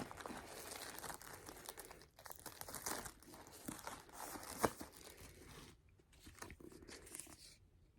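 Plastic shrink wrap is torn and peeled off a boxed book, giving sustained close crinkling and crackling with one sharp rip partway through, then a brief quieter pause before more rustling.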